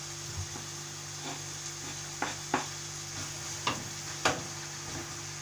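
Chopped onion frying in a pan, a soft steady sizzle under a low background hum, broken by several sharp clicks and scrapes of a utensil stirring against the pan.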